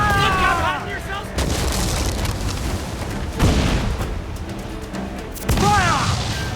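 Ship cannons in Assassin's Creed IV Black Flag fire in repeated heavy booms during a naval battle, with crew shouting over the blasts, crackling gunfire and whistling shots.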